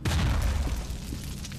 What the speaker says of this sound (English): Oh no, let's chuck a grenade.